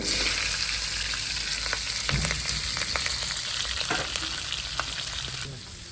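Onions and green chillies frying in a pan for a Jaffna temple-style mutton curry, a dense close sizzle with intermittent stirring scrapes and crackles that eases slightly at the end, with no voices.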